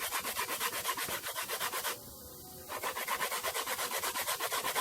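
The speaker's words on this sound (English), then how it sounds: "I'm going to use this coconut to grate." A coconut is grated by hand outdoors in rapid rhythmic rasping strokes, close and steady, with a brief pause partway through before the scraping resumes.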